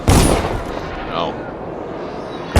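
Gunfire in the adventure game Witches of Brigmore: a loud, sharp shot rings out at the start and decays, followed by quieter ambience and another abrupt shot at the very end.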